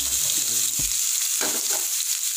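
Chopped pineapple sizzling in hot oil with mustard seeds in a pan, a strong steady hiss of frying with a few faint clinks underneath.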